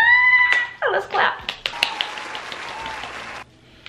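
At a casual birthday get-together, a short burst of hand clapping with a few sharp slaps follows a voice speaking. The clapping fades after a couple of seconds.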